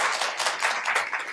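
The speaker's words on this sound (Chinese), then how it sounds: "李立芬、李立伟，我们是不是掌声欢迎？" Audience at a forum on cyberbullying governance applauds, a dense burst of many hands clapping that fills the whole short moment at steady volume.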